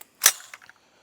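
A single HPA-powered airsoft gun shot, Radical Defense CS5 or LS5, fired nearby indoors: one sharp, fairly quiet crack followed by brief faint mechanical clicks, with nothing else around it.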